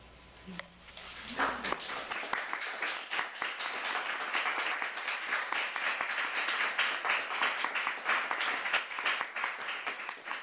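An audience applauds after a poetry reading, with dense, sustained clapping that starts after a couple of seconds and holds steady at close range to the end.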